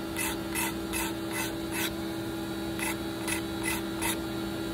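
A wooden flintlock rifle stock being sanded by hand, heard as rhythmic rasping strokes: a quick run of about five, a short pause, then four more. A steady background hum sits underneath.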